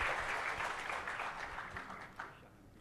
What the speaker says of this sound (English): I think we should give a round of applause to our Yang Berhormat Minister.